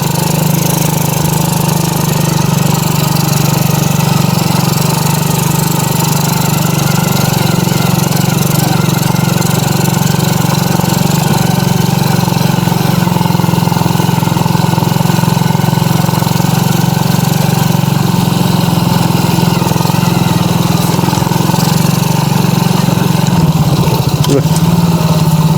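A non-trail motorcycle engine running at low, steady revs while riding slowly over rocks beside a river, a loud, even drone close by that sustains for the whole stretch.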